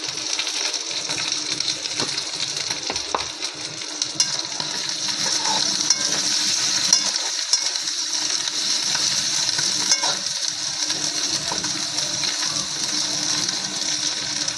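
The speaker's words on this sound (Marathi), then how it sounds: "तर ह्याच्यामध्ये मी आता कांदा टाकते" Onion frying in a pan while masala arbi is being cooked, a constant bright sizzle with light stirring scrapes, close and steady throughout.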